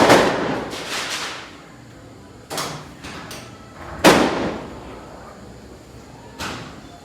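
Celebratory gunfire at a neighbours' wedding procession, several sharp cracks and bangs spaced a second or two apart, some in quick pairs, echoing outdoors at moderate distance.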